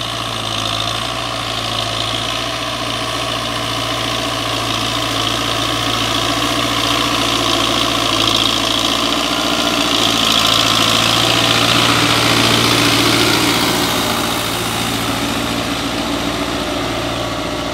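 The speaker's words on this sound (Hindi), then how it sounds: "ये बैलारस 4x4 दी अज परफॉर्मेंस देख गिनो" A Belarus 820 4x4 tractor engine running steadily nearby, a loud, even diesel rumble with a constant low hum that swells slightly midway, and no voices.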